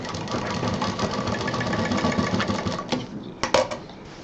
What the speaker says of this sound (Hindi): इंच वाले एरिया पर वापस कॉर्नर को सिलते हुए फिर मशीन हटाएंगे